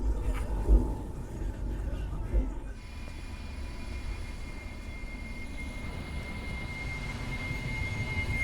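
A steady aircraft-like helicopter engine drone in the video game Metal Gear Solid 4 fills the scene, with a couple of thumps early on before the rotor-style roar settles in continuously.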